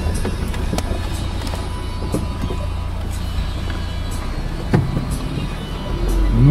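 A UAZ Patriot 4x4 drives off-road on a mountain track, its engine a steady close drone with rumbling and occasional knocks from the rough ground, swelling louder near the end.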